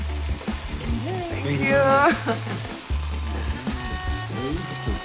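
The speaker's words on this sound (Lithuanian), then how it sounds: "Jako mėsa. Čirškam." Yak meat sizzles steadily in a hot pan, a continuous frying hiss running beneath people talking nearby.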